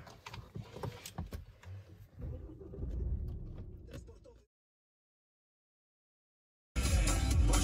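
A car carries people on a drive out to check wheat fields before harvest, its engine rumbling steadily and swelling as it moves, then cutting off into silence before the rumble returns loudly.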